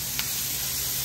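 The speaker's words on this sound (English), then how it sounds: "Time to saute the veggies" Vegetables sautéing in butter in a pan, a steady close sizzle and hiss with a brief louder spit near the start, no talking.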